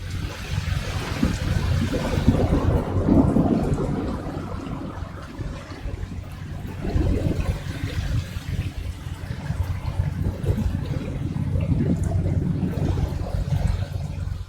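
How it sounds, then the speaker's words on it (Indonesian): Heavy rain in a storm, from the video game The Last Caretaker: a steady, dense, loud roar of rainfall with low rumbling running through it, continuous for the whole stretch with no voices over it. "Mana hujan lagi, lebat banget."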